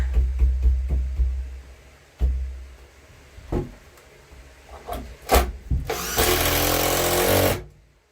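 A power drill drives screws into wood studs while a wood rack is being built, with short whirring bursts and knocks early on and then one long, loud, sustained run of the drill near the end.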